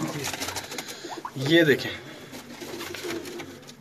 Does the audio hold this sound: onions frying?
no